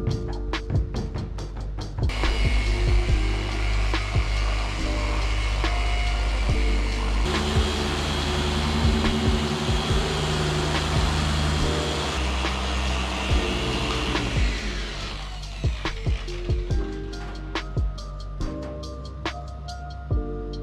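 A rotary polisher doing the finishing pass on car paint whines loudly and steadily for a long stretch, with the pitch shifting as pressure changes. Clicks and handling knocks come at the start and end as it spins down.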